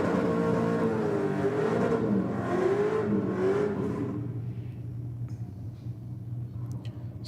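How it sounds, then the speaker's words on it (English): A Holden VK Commodore drag car revs hard during a burnout at a drag strip, its engine note rising and wavering loudly before fading away into quieter background noise. "Strong RPM in the burnout from the VK."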